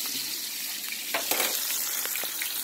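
Chicken pieces fry in hot oil with a steady close hiss and occasional louder crackles and pops.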